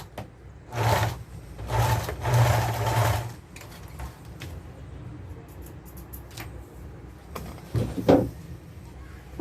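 A sewing machine stitches a zipper into a trouser fly in loud bursts, three strong runs in the first half then a shorter one near the end, with quieter handling in between.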